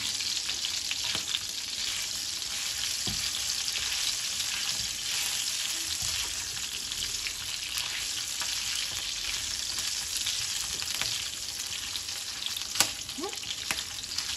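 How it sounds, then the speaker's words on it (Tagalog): Pork fat frying in hot oil makes a loud, continuous sizzle dotted with sharp spattering pops, heard close up with no talking. "Medyo malayo ako at tumatalsik. Dahil sa mga taba."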